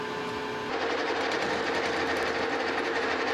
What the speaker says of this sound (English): Just kind of facing that bottom shaft.